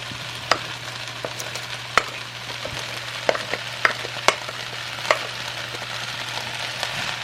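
Cabbage and potatoes cook in a pan with a steady low sizzle, broken by sharp scrapes and clicks of stirring scattered throughout, close and with no talk.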